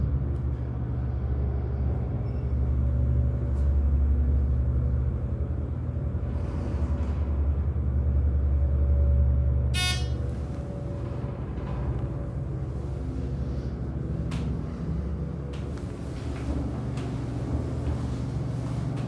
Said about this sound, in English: Very quiet motor, but still a really nice elevator.